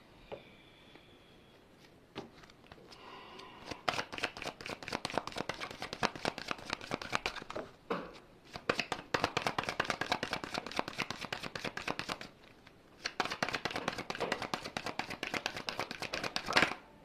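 Tarot cards being shuffled by hand in a quiet room, dense rapid papery riffling and flicking in long bursts with short pauses between them, fairly close and alone.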